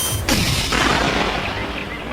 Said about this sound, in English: The sound of gunfire echoes among the misty mountains of the Victoria Highlands